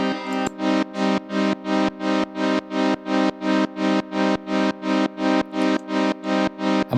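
Synth-like tone chopped into a steady run of about fifteen even pulses, wet and distorted, with a reverb mix fed into modulation feedback in Logic Pro on iPad; loud and close, no talk.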